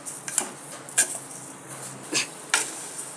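A spoon scraping and clinking against a metal pot of raw mango jam mixture on a gas stove, several sharp separate knocks spread over a few seconds, close and fairly loud, with no voices.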